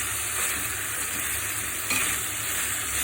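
Prawns and onions frying together in a pan, a dense continuous hiss of hot oil with a faint stir or scrape near the middle, steady and close without any talking.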